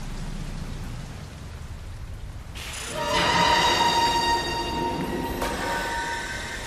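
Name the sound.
rain storm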